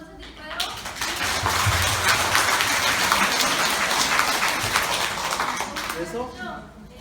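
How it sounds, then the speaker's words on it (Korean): Audience clapping during an evening haircutting demonstration, a dense, steady patter of many hands that swells in, holds at a lively level, and tapers off, with a voice speaking over the start and end. "이 저녁 박수 한번 쳐드릴까요?"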